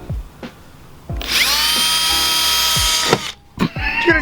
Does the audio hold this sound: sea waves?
no